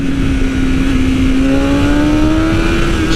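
A 2020 BMW S1000RR M with a stage 1 ECU flash accelerating hard, a loud, close, steady engine howl with a rising tone and dense rough roar throughout, no pauses.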